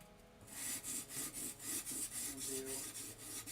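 A Stanley No. 5 hand plane blade is honed on a stone to raise a burr, with rhythmic back-and-forth rasping strokes, about a dozen in quick succession, close and fairly loud.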